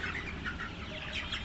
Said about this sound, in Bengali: এটা হচ্ছে আপনার সোনালী মুরগি।